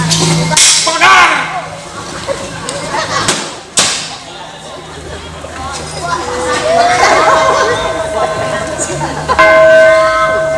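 During a stage performance by a theatre troupe, a bell clangs repeatedly amid thuds and shouting crowd voices. The ringing tones grow clearer toward the end over a loud, busy scene.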